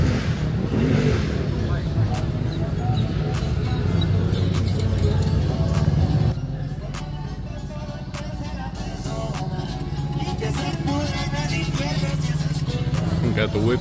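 A Dodge SRT's engine runs loud and steady at a nighttime car meet in San Jose, a continuous roar that eases slightly midway, with people talking nearby throughout.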